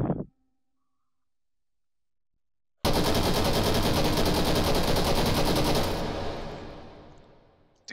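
A sustained burst of automatic gunfire in a video game, loud and dense for about three seconds after a short silence, then fading away with a lingering tail.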